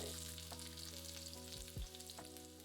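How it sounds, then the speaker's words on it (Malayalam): Sliced shallots, dried red chilies and curry leaves fry in coconut oil as a tempering for raw mango curry, a soft, even sizzle with light crackles, fairly quiet and steady, with no talking. "4 വറ്റൽമുളക്, കുറച്ച് കറിവേപ്പില, ഇത്രയും ഇട്ട് മൂപ്പിക്കുക."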